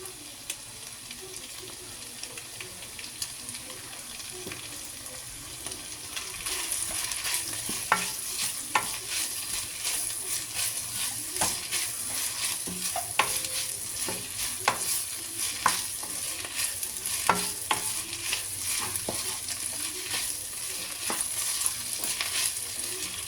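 Mint leaves frying and being stirred in a pan, a soft continuous sizzle punctuated by repeated scraping strokes of a spatula, fairly quiet and close.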